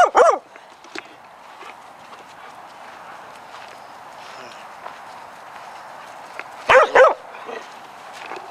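Dogs at a dog park bark in short, sharp bursts, a few at the start and a louder cluster near the end, over faint outdoor background.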